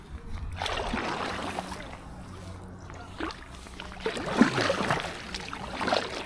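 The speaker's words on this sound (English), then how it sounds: "This Packraft is reversing." An Itiwit PR500 packraft paddled in reverse on open water, with soft paddle sloshes and splashes recurring through a steady watery wash, close by and moderately quiet, no talk.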